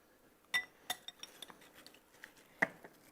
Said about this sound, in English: So here's your spoon. Give that a good stir.